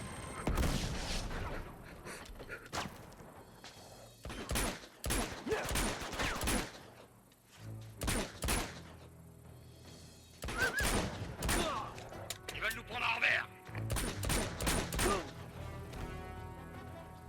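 Video-game gunfire in Uncharted 2 comes in repeated sharp bursts and volleys with short gaps between them, loud and punchy with some mechanical clatter mixed in.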